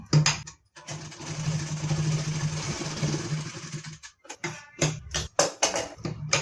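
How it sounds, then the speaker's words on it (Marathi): A sewing machine stitches a blouse for a peacock-coloured bordered saree, whirring in a sustained run of a few seconds, then breaking into short bursts and clacks as stitching stops and restarts, close up. "अशा पद्धतीने आपल्याला शिलाई करून घ्यायचं आहे"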